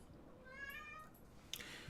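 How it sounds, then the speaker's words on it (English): A pet cat gives a single soft, faint meow in the background of a quiet room, followed by a brief small knock. "I got a cat too"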